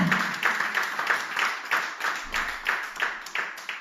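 A congregation at an evangelism campaign service claps in a steady rhythmic beat, loud and close, with cheering voices mixed into the clapping throughout.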